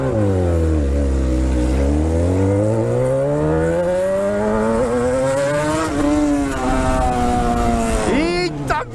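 A motorcycle engine revs loudly and steadily close by, its pitch climbing and dipping over several seconds before a sudden blip at the end, with talk underneath.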